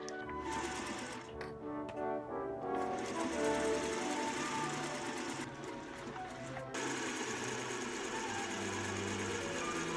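A sewing machine stitches a red riding-hood cape hood in a busy, rapid mechanical chatter, up close and loud, stopping briefly twice before starting again.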